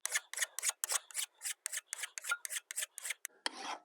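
A file is rasped over the edge of a wood-splitting tool to round over a burr: about a dozen quick, even, close scraping strokes, then a longer rough rub at the end.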